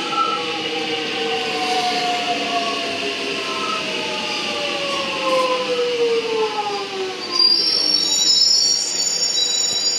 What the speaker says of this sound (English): So this train's off to Belgrave.